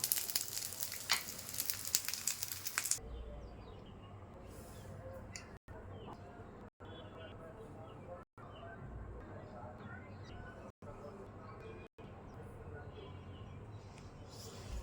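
Fresh pumpkin flower fritters fry in oil, a soft steady sizzle that is loud and bright at first, then settles into a quieter continuous crackle broken by several brief dropouts.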